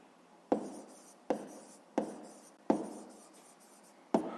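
A pen or chalk writes by hand during a sixth-grade math lesson, five sharp strokes in close succession, each starting with a crisp tap and trailing off in a soft scratch.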